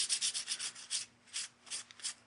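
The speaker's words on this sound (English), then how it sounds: "I'll just very lightly with 400 grit sandpaper, remove any roughness" Light, quick rubbing strokes of 400-grit sandpaper on varnish, a soft rhythmic scratching that comes in short bursts and then eases off.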